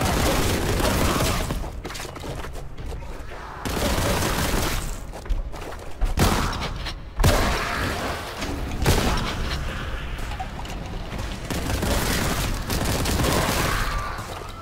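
Heavy weapons fire in the shooter game Warhammer 40K: Boltgun comes in dense, punchy, booming bursts that repeat over and over, with short breaks between volleys and no talk.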